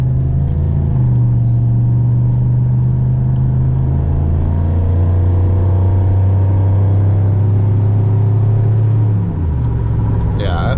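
An LS V8 car engine rumbles loudly at a steady, deep idle-like drone close by, then the pitch shifts briefly near the end.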